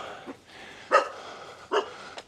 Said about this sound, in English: some dogs